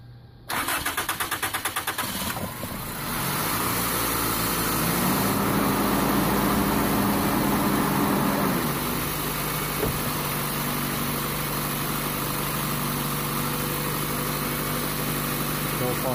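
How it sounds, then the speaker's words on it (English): A Toyota car engine with an EFI fuel line under pressure test cranks and starts, then settles into a steady, close idle that runs to the end with no talk. "Alright, we're going to turn on the engine."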